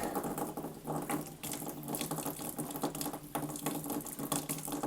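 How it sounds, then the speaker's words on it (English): Water runs steadily from a tap fed through a BWT water softener, a close, continuous hissing splash with slight flutter as the flow weakens, with no voices. "let's try the taps and see how much flow we've got here"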